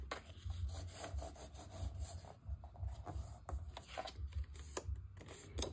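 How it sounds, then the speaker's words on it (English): Scored paper being folded and burnished for a Stamperia Savana craft build, heard as a run of close, dry rubbing and scraping strokes in an uneven rhythm over a low background rumble. "So fold and burnish that."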